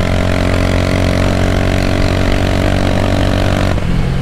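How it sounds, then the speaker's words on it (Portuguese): Motorcycle engine ridden over old, pothole-filled asphalt on a track, giving a loud, continuous buzzing drone that holds near-steady pitch, with a slight shift toward the end. "É louco, a moto pula muito."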